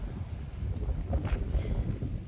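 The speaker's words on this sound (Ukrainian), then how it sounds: "ось знову здійнявся вітер, не дає показати" Steady wind buffets the microphone, a continuous low rumbling roar throughout with no speech.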